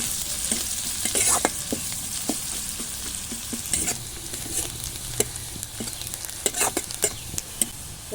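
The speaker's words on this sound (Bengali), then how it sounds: "সবশেষে দিয়ে দেবো পেঁয়াজ কুচি ভালো করে হালকা ব্রাউন কালার হবে তখন" Chopped onion frying in oil in a pan until light brown, for a cutlet filling, gives a steady close sizzle broken by repeated scraping stirs, with no talking.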